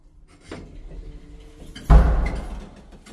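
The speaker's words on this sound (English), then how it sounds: "Doors opening." Lift doors at a shopping centre in East Kilbride slide open with a sudden loud rumbling clunk that fades over about a second, after a fainter earlier shuffle against quiet background hum.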